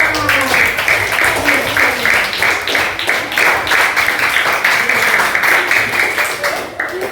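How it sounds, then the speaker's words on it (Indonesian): Children in a primary school Indonesian-language class clap together, a loud and steady round of claps close by, with young voices mixed in. "Tepuk tangan anak."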